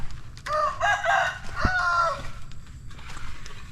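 A chicken perched up high at a house construction site in Laos cackles and clucks in a loud run of calls, then quieter clucking trails off over background noise.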